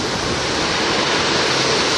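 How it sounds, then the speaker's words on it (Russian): Stormy sea waves crash continuously on the shore at Khosta near Sochi, a dense, roaring broadband surge that stays loud and steady with no voices. "Сегодня на море шторм"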